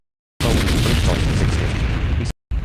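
A loud, close explosion boom from a torpedo hit in an online battleship video game rumbles continuously for about two seconds, cuts off abruptly, then briefly resumes.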